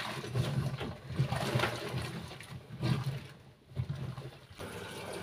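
Water runs into a washing machine drum as it refills after clothes are taken out, a steady splashing gush with surging pulses that rises and dips over several seconds, close and fairly loud with no talking.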